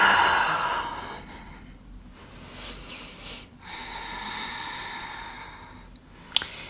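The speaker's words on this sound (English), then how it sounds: "Breathing deeply here." Slow, deep breathing during a yoga flow, with long audible inhales and exhales close to the microphone, quiet and unhurried with no talking.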